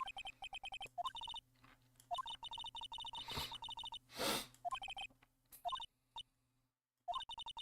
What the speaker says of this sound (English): I just had to sniffle.